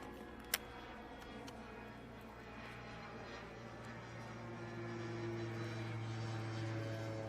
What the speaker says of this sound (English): Wonder if that's that same plane from Lake Norman.